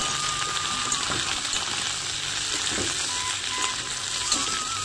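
Vegetables for a cauliflower and rohu fish curry frying in hot oil with ginger, a dense, steady close sizzle with faint scrapes of stirring.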